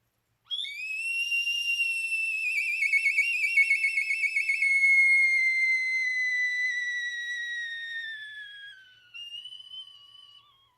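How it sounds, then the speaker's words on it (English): A sustained high tone from a hummingbird whistle, bright and slightly warbling, holding steady for several seconds before sliding down and ending with a brief softer toot. "it was appropriate to end our time with the hummingbird whistle today"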